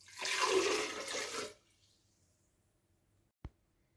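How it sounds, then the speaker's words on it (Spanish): Half a litre of water pours into a food processor jar, a splashy gushing burst lasting about a second and a half, followed by quiet and a single small knock near the end. "En la procesadora colocamos medio litro de agua"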